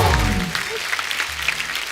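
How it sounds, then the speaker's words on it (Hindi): Studio audience applause for a film's star cast on a TV comedy talk show, a burst of clapping over two seconds with a low music tone underneath at the start. "एक बार जोरदार तालियां हो जाए जवानी जाने मन की पूरी स्टार कास्ट के लिए।"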